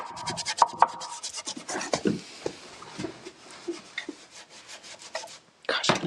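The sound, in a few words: stippling copper wax finish with a wax brush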